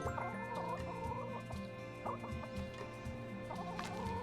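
Several chickens and roosters in the video game My Time at Sandrock cluck and murmur in short, overlapping bursts against a steady background hum, close and moderately loud.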